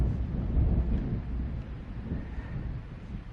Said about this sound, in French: C'est juste l'orage.